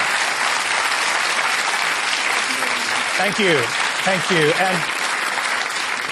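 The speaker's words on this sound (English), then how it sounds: "Now you can applaud." Studio audience applause for a televised panel discussion, dense and sustained throughout, with a voice briefly speaking over it.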